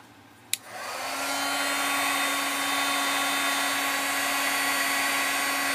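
A handheld heat tool switches on with a click and blows a loud, steady whir of hot air while drying craft name tags, running continuously up close with no voices.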